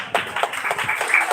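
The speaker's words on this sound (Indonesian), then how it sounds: "Ica Angel, tepuk tangannya mana?" Audience applause at a live karaoke contest: a short burst of scattered hand clapping from a small crowd, fairly close and moderately loud, lasting just over a second.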